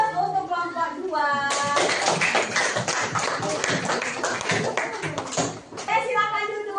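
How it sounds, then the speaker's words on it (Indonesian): A classroom of children claps for a group, a dense burst of applause lasting about four seconds, with a teacher's voice talking just before and after. "Jadi aplaus untuk kelompok 2."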